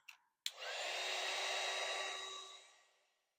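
A heat tool blasts wet watercolor paint on paper. A sharp click starts a loud, steady, close airy roar that holds for about two seconds, then winds down and fades away.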